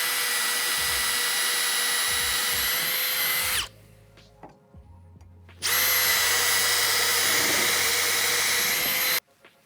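A high-pitched power drill whines loudly for a few seconds, stops briefly, then spins up again for another long run, drilling while building outdoor stairs.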